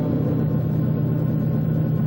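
Spaceship engines in a 1960 science-fiction film give off a steady, loud, low rumbling hum that holds an even pitch throughout, with no breaks or changes.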